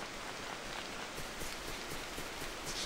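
Steady rain falls in .hack//G.U. Vol. 2, a soft, even hiss with faint drops pattering on surfaces and no music or voices.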